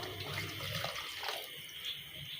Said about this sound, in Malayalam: ശകലം കൂടെ വെള്ളം ഒഴിക്കാം.